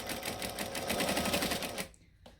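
A sewing machine stitches fabric near a zipper in a fast, steady mechanical rhythm for a couple of seconds, then stops abruptly, leaving a faint click.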